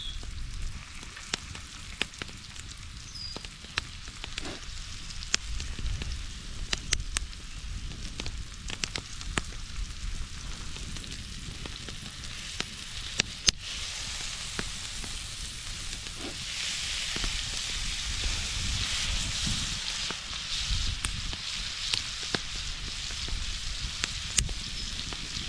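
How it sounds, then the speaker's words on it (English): Steaks sizzle over an open campfire in the bush with a continuous hiss, scattered sharp pops and crackles, and a louder, denser stretch partway through. "Time to flip these steaks."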